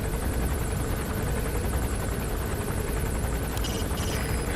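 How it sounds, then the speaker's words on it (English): A helicopter in the video game Metal Gear Solid V roars steadily and loudly throughout, its rotor chop pulsing evenly with a constant engine whine, no voices over it. "I think this helicopter might be slightly bugged out"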